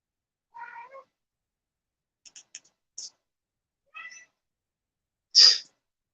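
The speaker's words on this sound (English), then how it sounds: "You hear her? She meowing." Several short, quiet meows spaced apart, ending in a louder, sharper cry; no talking.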